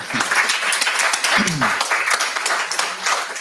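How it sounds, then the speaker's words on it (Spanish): Audience at a conference breaking into steady, sustained applause, many hands clapping close and loud throughout with brief voices mixed in. "Pueden aplaudir si quieren."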